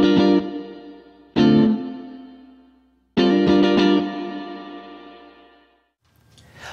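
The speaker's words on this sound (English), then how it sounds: "Time controls how long the reverb will take to decay." Three electric guitar chords ring out in turn through a Boss RV-5 reverb pedal, each trailing a long reverb tail that slowly fades, the last decaying to near silence.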